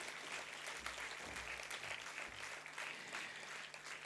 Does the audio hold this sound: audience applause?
yes